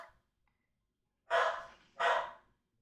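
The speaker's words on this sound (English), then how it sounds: "I apologize for my dogs barking." A dog barks twice in quick succession, fairly close and loud, after a brief faint sound and a stretch of quiet.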